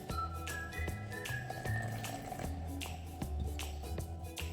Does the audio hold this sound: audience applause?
no